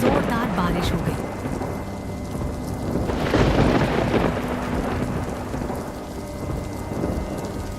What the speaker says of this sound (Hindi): अंधेरी रात में कड़कती बिजली के साथ जोरदार बारिश हो गई।